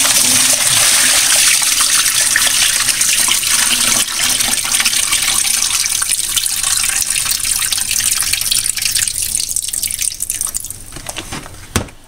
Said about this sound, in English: I'm going to drain this brine off of my chicken.